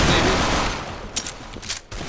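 Pistol gunfire in CS:GO on the Overpass map, heard as a few quick sharp shots in succession after a loud muffled rumble, with a player's voice talking nearby.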